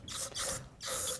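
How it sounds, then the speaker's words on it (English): A spray paint can gives three short hissing bursts onto a motocross handlebar grip, each a bright airy spray separated by brief pauses, close and clear, with no speech. "let's give this thing a shot of spray paint here"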